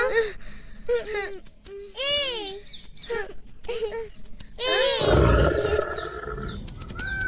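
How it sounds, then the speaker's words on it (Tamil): An animated cartoon lion roars while hunting, a loud rough roar bursting in after short high-pitched cartoon voices and squeaks, rumbling on for a couple of seconds near the end. "அது என்னமா சத்தம்? அதுவா,"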